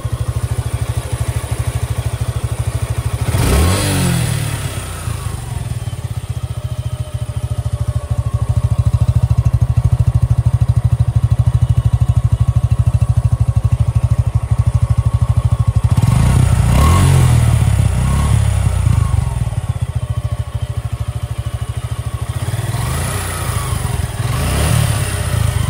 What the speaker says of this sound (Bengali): আর এটা হলো বাইকের সাউন্ড কোয়ালিটি।